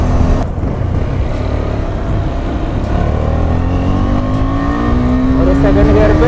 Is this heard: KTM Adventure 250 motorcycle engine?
yes